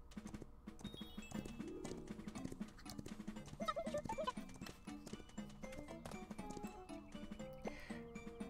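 Rhythmic clip-clop of horse hooves over game music in Miitopia, steady and fairly close, with a horse whinny mixed in.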